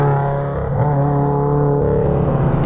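A 460 hp Subaru Outback accelerating hard, its engine note droning loud and close from the cabin with a steady rising harmonic tone across the whole stretch.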